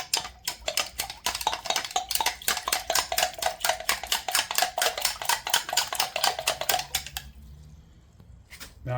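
A spoon stirs briskly through honey in a container, a steady run of fast scraping, clinking strokes close up for about seven seconds before stopping into quiet.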